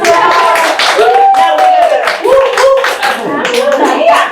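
A round of applause for a teacher at a handwriting workshop, with loud, scattered hand claps close by overlapping lively voices that talk and exclaim throughout.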